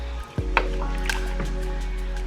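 Salt is stirred into crockpot chili, giving a brief wet squish and a few soft scraping, sloshing sounds near at hand over a steady low background hum.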